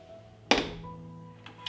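A covered pot full of water and glass jars is set down on a stove with a single solid thunk, followed by faint light clinks and a quiet hum in an otherwise still kitchen.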